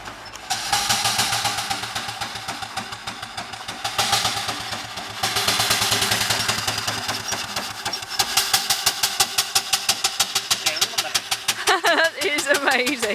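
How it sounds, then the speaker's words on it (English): A 4-inch scale Burrell steam traction engine on its first steam run chuffs with steady rhythmic exhaust beats, speeding into rapid, loud puffs toward the end, with people talking nearby. "Beautiful, beautiful engine."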